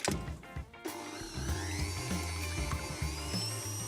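Electric mixer whisking egg whites until stiff for a gluten-free dessert, a close, steady high-pitched motor whine with shifting pitch and rattling beater contact, running continuously without talk.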